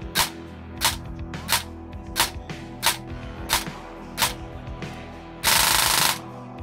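EMG CYMA Umbrella AR15 airsoft rifle firing nearby: eight crisp single shots at a steady rhythm, about one every 0.7 seconds, then a short loud burst of rapid fire near the end, with no talking.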